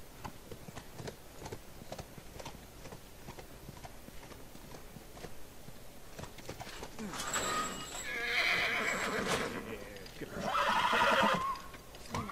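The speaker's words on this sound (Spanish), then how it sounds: "tú, Eli, con el caballo, vente para adentro." A horse whinnies twice in the video game The Last of Us, loud drawn-out neighs after steady clip-clop hooves, with someone talking over the scene.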